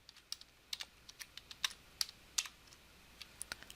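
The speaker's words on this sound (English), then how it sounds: "Repeat for the maximum by typing equals max" Light, irregular keystrokes on a computer keyboard while entering a formula in Excel, quiet isolated clicks in small bursts with short gaps, close by and otherwise silent.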